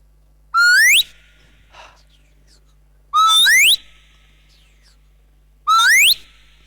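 A voice whistles an imitation of a peewit bird's cry three times, each a loud rising whistle with a quiet pause between.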